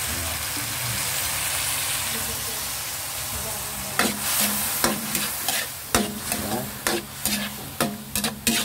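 Pares with beef and soy sauce fries in a pan, a continuous close sizzle, then from midway a spatula scrapes and stirs in a quick, regular rhythm of sharp metallic strokes over the frying hiss.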